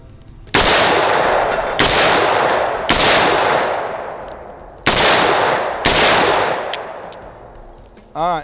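A Zastava revolver with a 6-inch barrel fires five loud .357 rounds at uneven intervals, and each sharp blast rings out into a long decaying echo outdoors.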